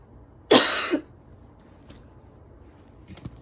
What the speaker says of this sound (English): I have really bad cough.